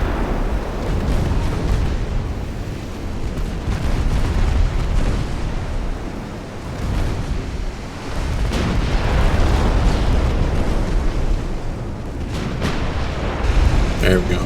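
Battleship shells land in the naval game Ultimate Admiral Dreadnoughts, making dense, rumbling booms and explosions that roll on continuously and loudly. Someone talks over them.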